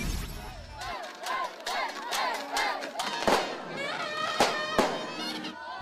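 Loud firecrackers bang sharply a few times over a noisy, cheering crowd at a New Year's celebration in Tondo, Manila, with people shouting and calling out throughout.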